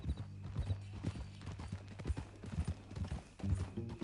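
Horse hooves clip-clop in a steady walking rhythm, moderately close, with no talking, from the video game Red Dead Redemption 2.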